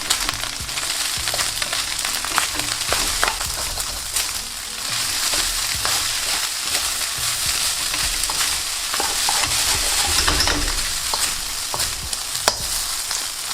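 Carrot and spring onions being stirred through a hot pan of egg fried rice, a steady loud sizzle with scraping spatula strokes running throughout, no voices.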